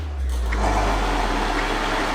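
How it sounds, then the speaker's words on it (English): A loud, steady motor whir with a low drone and grinding texture, a blender grinding peanuts into paste continuously at close range. "Cover that with a lid and put it into the blender and turn it on."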